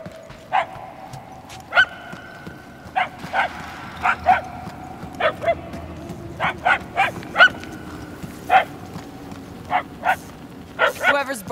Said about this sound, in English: Whoever's barking must be close.